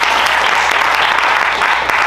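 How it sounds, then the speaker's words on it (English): Applause for Danny Drum, the finance chair, at a New York political event: a dense, steady wash of many hands clapping, loud and continuous through the short stretch with no voices on top. "let's give a round of applause for Danny Drum."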